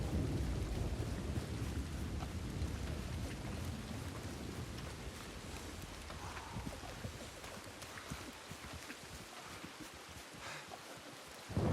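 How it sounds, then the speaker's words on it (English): Heavy rain hisses steadily across the whole stretch with low rumbling thunder in a Red Dead Redemption 2 thunderstorm, loud and continuous, with no voices. "Love the thunderstorms in this game, too."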